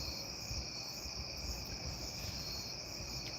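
Crickets chirp at night in a yard, a dense, steady high trill from many insects that stays faint and constant throughout with no other sounds.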